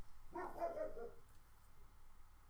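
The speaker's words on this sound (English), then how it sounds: "my dog's barking one more time" A dog barks a few times at medium distance, a short burst of yips in a quiet room, then silence with faint background hum.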